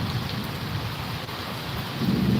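A rain and wind storm sweeps over Amreli, a steady loud roar of pouring rain and gusts that hardly changes, with no voices over it.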